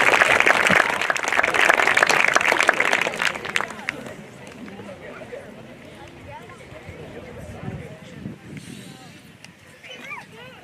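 A crowd claps for 4th and 8th grade students at a school step-up and middle school honors ceremony: loud, dense applause that fades after a few seconds into lighter scattered clapping and murmur.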